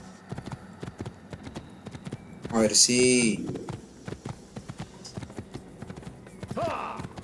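Horse hooves in the Assassin's Creed video game, clip-clopping in a brisk, steady rhythm throughout, with a horse whinny partway through and someone talking over the game sounds.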